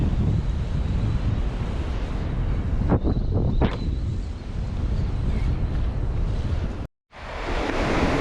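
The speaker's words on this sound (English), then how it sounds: "we're out here at the beach today" Waves on a beach with heavy wind buffeting the microphone, a loud continuous roar of surf with brief swells, cut by a short dropout near the end before resuming.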